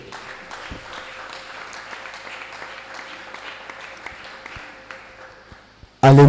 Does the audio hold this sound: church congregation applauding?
yes